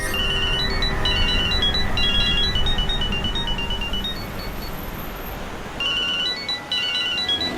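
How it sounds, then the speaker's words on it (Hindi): A phone ringtone plays a repeating electronic melody in short bursts, loud and close, over a busy background hum, pausing briefly before starting again. "अरे साहब फोन बज रहा है आपका"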